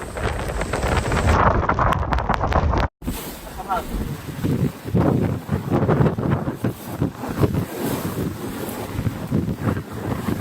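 Roaring Typhoon Bebinca winds with level-14 gusts sweep through Shanghai, battering the microphone in loud, continuous rushes with a brief dropout, while a voice talks underneath.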